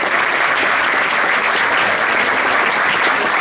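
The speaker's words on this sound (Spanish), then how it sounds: "Para quien quiera un aplauso." An audience at a regional choir gathering breaks into loud, sustained applause, a dense wash of clapping from a full hall that fills the whole moment.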